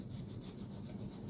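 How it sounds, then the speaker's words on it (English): A dry microfiber cloth scrubs steadily over a sports card holder, giving a continuous close, soft rubbing and scraping friction with no pauses and no voices. "scrubbing with a dry microfiber"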